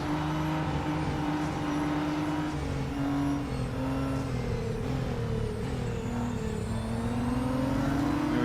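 Race car engines howl continuously through a Real Racing 3 video game race featuring the Radical RXC, a steady loud drone with rising pitch sweeps as cars accelerate and jostle for position.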